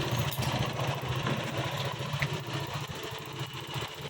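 A motorcycle engine idles steadily through a test run at a repair shop, a continuous loud low rumble with a mechanical clatter and no talk over it.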